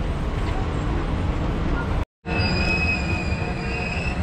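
A local train in Japan running from Nagashima station toward Kuwana rumbles steadily up close, with a high wheel squeal riding over it and a momentary break in the sound midway.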